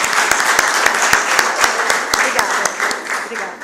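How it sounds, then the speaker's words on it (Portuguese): Audience applause at a municipal council session in Santa Maria de Jetibá, Brazil, a steady dense clapping that stays loud and close for several seconds with sharp individual claps poking through. "Pode bater palmas para ela."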